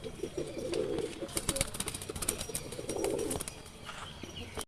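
Madras pigeons cooing in a pigeon collection, soft low coos repeating a few times amid faint chirps and background noise.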